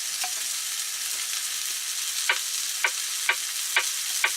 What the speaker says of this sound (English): Because I love the mushrooms like to cook. Cook them down a little.